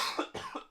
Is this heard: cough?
yes